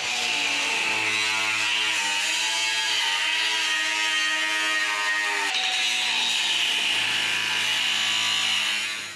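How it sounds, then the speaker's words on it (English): Angle grinder cutting through industrial cable tray with a loud, sustained high-pitched whine and a harmonic buzz, running steadily throughout and shifting pitch slightly as the disc bites into the metal. "Right, angle grinder."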